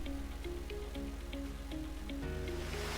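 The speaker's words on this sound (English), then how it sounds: "at 6 we have rain" Steady game rain effect in a Unity Game Creator 2 weather system, a dense hiss of falling drops with a low repeating hum and soft tonal notes underneath, sounding continuously and evenly for the whole stretch.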